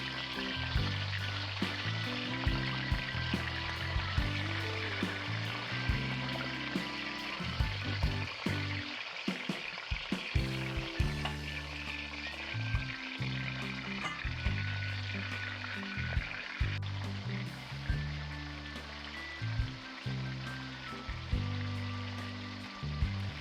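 Boneless ribs sizzle and fry steadily in hot oil in a wok, a continuous crackling hiss with bubbling bursts and a low background hum, at close range, with no voices.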